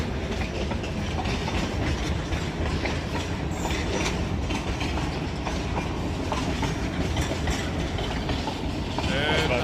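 A train rolls past at close range in Itanhaçu, Bahia, Brazil, giving a loud, continuous rumble with rhythmic clickety-clack wheel noise that persists throughout.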